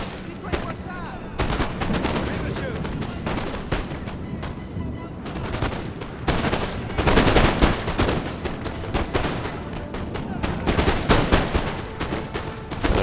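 Rolling musket volleys from infantry on a Waterloo battlefield in Napoleon Total War, with Moscow Musketeers and Old Guard firing; dense, continuous crackling gunfire with heavier booming surges throughout, loud and close.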